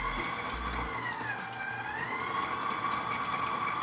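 An electric mixer creams butter and sugar for chocolate chip cookie dough, a faint steady motor whir with a wavering tone running continuously throughout.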